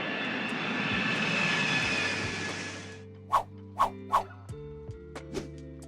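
An Ilyushin Il-76 heavy Soviet military transport jet roaring on its takeoff run, a loud sustained engine rumble and whine that cuts off abruptly, followed by a few sharp dog barks.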